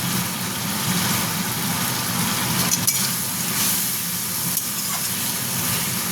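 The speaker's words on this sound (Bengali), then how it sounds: "এটাকে একদম ভালো মতন কষে নেবেন যাতে তেলের ওপরে চলে আসে" Ginger and green chilli spice paste frying in oil for a pabda fish and brinjal curry: a continuous loud sizzle with scraping stirring strokes at close range, no voice over it.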